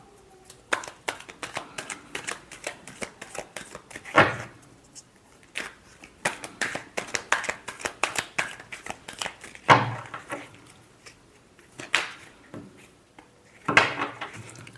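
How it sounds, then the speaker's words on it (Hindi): Tarot cards are shuffled by hand in a rapid series of crisp riffles and taps, with sharper snaps every few seconds and short pauses between bursts, close and clear with no talking. "Last shuffle."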